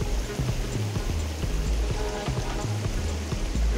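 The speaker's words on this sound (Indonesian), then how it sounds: "sudah mau turun hujan lagi nih teman-teman" Rain begins to fall outdoors beside a muddy stream in the late afternoon, a steady close patter and wash of drops with faint low thumps underneath.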